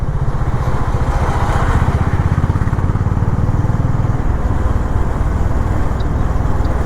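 A 2025 Honda H'ness motorcycle rides along the Chamba–Tehri road, its engine producing a loud, steady, close-up thrum with a fast regular pulse throughout and no talk.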